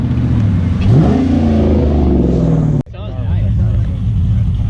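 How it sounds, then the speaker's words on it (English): At a car meet, a car engine revs up with a rising tone and holds a loud, close drone, cutting off suddenly before people talk over a quieter background. "That sounds like a race car,"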